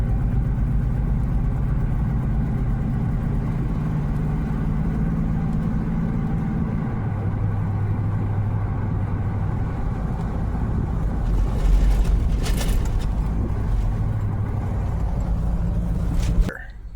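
Hummer H2 engine while driving, a steady low drone with shifting pitch as it changes gear, and a few brief clicks and knocks near the end.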